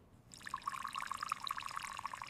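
Hot water pours into a cup for coffee, a close, soft trickle with bubbly gurgling that starts abruptly and runs steadily for a couple of seconds.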